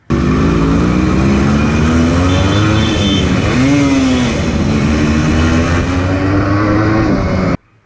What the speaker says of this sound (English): And since this chainsaw is nothing but a 2-stroke engine, it sounded exactly like my RX 100.